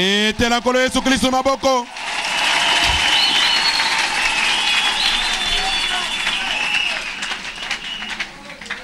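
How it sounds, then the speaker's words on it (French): Church congregation bursts into sustained applause and cheering for Jesus Christ after a preacher's voice, the clapping and shouts loud and continuous for several seconds before slowly thinning out. "Acclamez le Seigneur Jésus-Christ"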